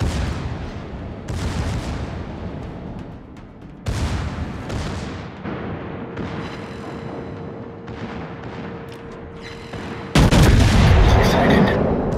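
Secondary guns on a warship in World of Warships blasting in loud, booming volleys, several heavy reports crashing over continuous battle rumble with a steady tone running underneath for a stretch.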